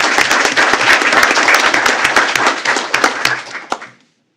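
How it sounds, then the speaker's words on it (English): Audience applause at a school board of trustees meeting, a dense burst of hand clapping that holds steady for about four seconds before fading out quickly. "Let's give her a round of applause as she makes her way up to the front"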